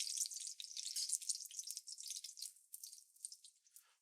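A tortilla sizzles and bubbles gently in hot frying oil, a faint, crackly hiss with soft popping throughout and no voices.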